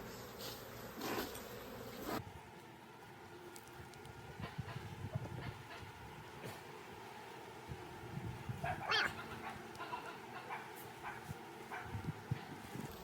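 Honeybees swarm over the frames of a strong backyard hive opened for inspection before winter after three months left alone, a dense, steady buzzing close by with occasional handling knocks.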